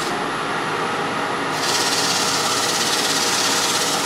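Wood being sanded on a spinning lathe with a dust collector running, a continuous dense whirring hum with steady abrasive rubbing that grows slightly brighter and louder partway through, no talk.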